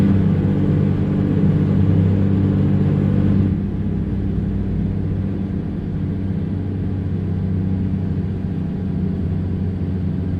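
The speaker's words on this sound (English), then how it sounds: "Pull up our RPMs, get up to speed" An old-school Peterbilt truck engine, 150 horsepower and hauling 57,000 lbs, drones in a heavy, steady rumble that eases slightly partway through, close and continuous with no speech.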